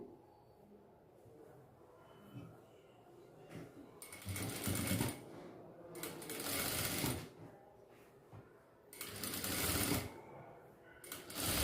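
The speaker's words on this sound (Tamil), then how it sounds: "இப்போ இதில் வந்து ஒரு 1/2 இன்ச் அளவுக்கு நம்ம வந்து சைட் ஸ்டிச் போட்டுறணும்" A sewing machine stitches the side seam of a miniature doll dress in three bursts of fast, steady whirring, separated by quieter pauses with faint voice and handling sounds.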